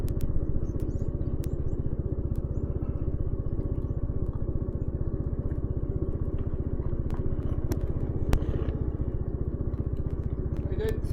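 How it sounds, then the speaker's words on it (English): A motorbike engine drones steadily and fairly close throughout on a ride along the Scotland coast, with a few sharp clicks and knocks over the top. "Motorbike."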